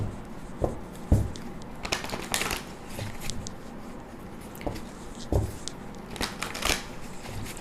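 Tarot cards shuffled by hand in a Hindi reading, giving soft papery riffles and flicks with a few sharper slaps, fairly close and moderately quiet, with no talking.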